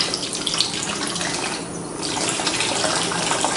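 Fuel streaming steadily out of a lawn mower's tank with the fuel line off, a continuous close gush of liquid that holds even for the whole stretch with only a brief dip partway through.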